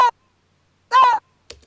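Two short, high-pitched vocal shout samples pitched up for a remake of Dua Lipa's "New Rules," brief and bright, with a quick soft thump at the end and silence between them.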